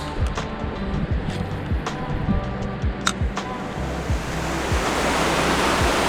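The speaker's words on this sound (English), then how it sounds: "Well, this is a very pretty river." Steady broadband rush of a pretty mountain river flowing near a wild camp, continuous and fairly loud throughout with a few faint knocks and clicks on top, no talking.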